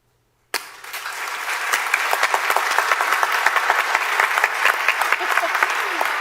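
An audience bursts into applause at the end of a talk, the clapping starting abruptly from silence and holding as a dense, steady patter of many hands for several seconds.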